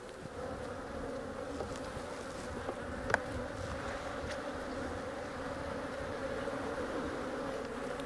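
Honey bees buzzing around an opened hive, a dense, steady swarm drone with individual bees passing close, continuous and moderately loud, no talking.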